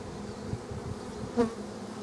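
Honey bees hum in a steady, soft drone around an open, heavy hive full of honey, with one brief louder buzz passing close by partway through.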